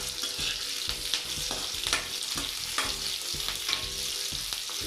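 Bitter gourd fries in refined sunflower oil in a pan, giving a loud, continuous close sizzle broken by repeated stirring scrapes and clatters.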